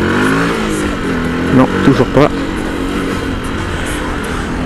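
A motorcycle engine drones steadily while the rider attempts a wheelie, with three quick throttle blips revving in a cluster midway before settling back, as someone speaks briefly in French over it.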